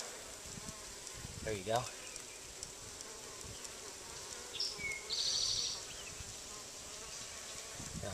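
A small cluster of honeybees hanging outside a nuc box buzzes steadily close by, with a short spoken remark and a few louder passes of individual bees over the constant hum.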